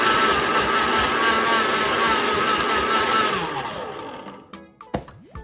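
A blender whirs loudly at steady speed through a spinach shake for about four seconds, then winds down and stops, followed by a few small clicks and knocks.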